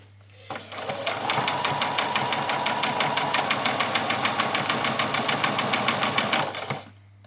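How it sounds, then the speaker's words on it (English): A sewing machine stitches a skirt piece onto a doll's dress in one steady run of rapid, even needle clatter, starting and stopping cleanly, close and loud. "we're just sewing the skirt piece on"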